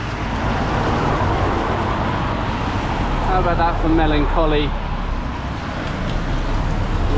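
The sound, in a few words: road traffic noise in a village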